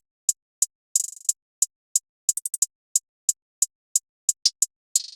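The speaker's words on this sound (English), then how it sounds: "I still made this 2-step pattern, adding rolls here and there like I normally would" Crisp, dry hi-hat ticks in a slow, steady two-step pattern for an R&B beat, broken up by quick rapid-fire rolls here and there, with nothing else playing.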